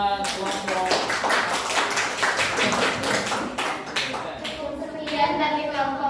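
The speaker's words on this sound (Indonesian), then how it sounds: "Tepuk tangan buat kelompok." A student group presenting in a classroom receives a burst of applause, dense overlapping claps lasting several seconds before tapering off, with children's voices mixed in.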